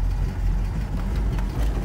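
A 1963 Chevrolet Corvette split-window with its original engine and four-speed manual runs steadily close by, a low, rumbling engine note with slight fluctuations and no voices.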